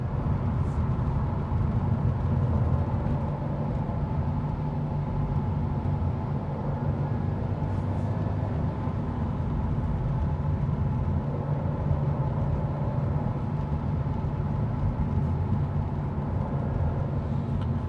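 A 2019 Subaru WRX STI with new wheels and suspension is driven from the cabin, its engine and road noise forming a steady, loud low rumble that stays even for the whole stretch with no talking.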